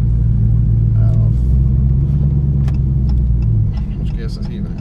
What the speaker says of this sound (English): Super loud supercharger whine again.